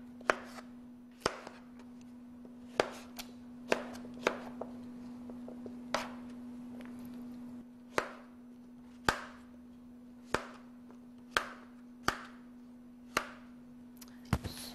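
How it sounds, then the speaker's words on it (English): A normal kitchen knife chops pumpkin into small pieces on a board, about a dozen crisp, close knocks at an uneven, unhurried pace over a faint steady hum. "you just cut it down then with a normal knife"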